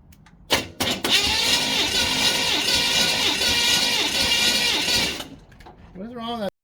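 A Chevy 350 V8 cranks over on the starter during a compression test, a loud, steady rhythmic churning that runs about four seconds before cutting off, with a voice briefly heard afterward.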